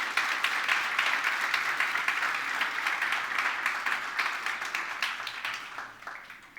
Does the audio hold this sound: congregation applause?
yes